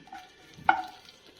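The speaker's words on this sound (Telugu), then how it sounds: "ప్యాన్లో 1 టీ స్పూన్ ఆయిల్ వేసి జీలకర్ర వేస్తున్నాను" Cumin seeds hitting a teaspoon of hot oil in a pan for a tempering, a brief bright sizzle bursting up mid-clip and fading quickly over quiet stirring.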